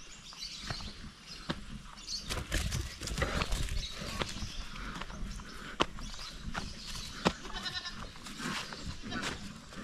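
Goats on a Filipino farm bleat near an enclosure, mixed with hoof clatter and scattered animal calls over a steady outdoor background, with a few sharp knocks.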